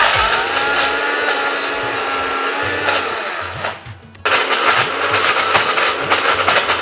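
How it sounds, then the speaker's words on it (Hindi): Electric grinder whirring as it grinds red chili powder, turmeric and other spices, a loud steady motor roar that briefly cuts out and restarts, running close and alone. "तो हम ग्राइंडर में पीस लेंगे।"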